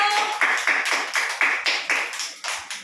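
A group of children clap their hands together in an indoor classroom game, a steady run of about ten sharp, close claps at an even rhythm.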